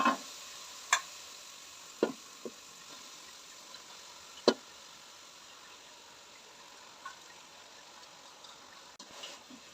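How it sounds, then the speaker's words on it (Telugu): A utensil stirs vegetable noodles with soft tomato and masala in a pan, making scattered sharp scrapes and taps over a faint, steady low sizzle. "ఇప్పుడు మొత్తం మంచిగా కలుపుకోవాలండి"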